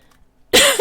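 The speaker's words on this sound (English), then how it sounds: "Oh, this cough is annoying." A single harsh cough bursts out close to the microphone after a near-silent stretch, loud and short, with a second smaller cough starting at the very end.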